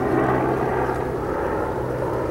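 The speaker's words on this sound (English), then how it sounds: "I'm gonna let this helicopter fly over" A helicopter passing overhead produces a steady, continuous low engine and rotor drone, moderately loud and unchanging throughout, with no voices present.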